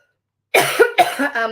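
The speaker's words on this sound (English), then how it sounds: "I've picked up a cough from my daughter." After a moment of silence, a person coughs several times in a close, loud burst, harsh and chesty with short gaps between hacks.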